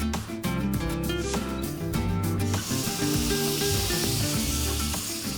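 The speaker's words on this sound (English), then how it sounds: "Okay, we're starting with a tin of coconut milk." Tin of coconut milk poured into a hot pan of curry leaves, a close steady sizzle and hiss that swells as the liquid hits, with kitchen clatter early on.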